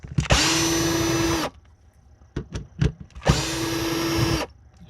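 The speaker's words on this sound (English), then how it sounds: "Just getting the screws out of the way." A power drill whirs in two loud, close bursts of just over a second each while removing screws from a Lloyd P DX979F, with clicks and handling knocks in the gap between.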